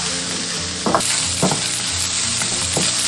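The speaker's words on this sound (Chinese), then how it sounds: "锅中倒少许食用油，然后将五花肉炒香" Pork belly stir-frying in a little cooking oil in a wok, a loud steady sizzle with a few scraping stirs of the spatula, no voices.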